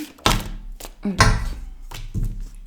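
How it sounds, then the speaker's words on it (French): Tarot cards drop onto a table during shuffling: several close, dull thunks and soft slaps in an uneven rhythm, each followed by a brief papery rustle. "il y a trop de cartes qui sont tombées"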